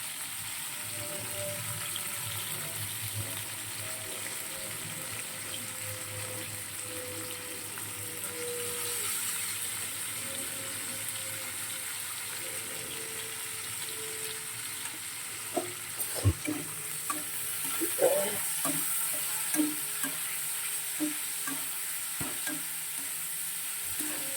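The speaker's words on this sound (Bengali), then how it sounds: "কড়ায় তেল দিয়ে দিয়েছি, তেলটা গরম হয়ে গেছে খুব ভালো করে। এখানে দেখো আমি ভাজবো।" Parshe fish frying in hot oil in a kadai, a steady close sizzle with occasional stirring clinks and small pops toward the end, no voices present.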